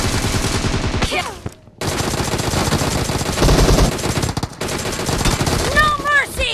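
Rapid bursts of automatic gunfire from a PUBG Mobile match, loud and close, with sustained fusillades broken by brief pauses, one near-silent gap, and a voice talking over the shooting.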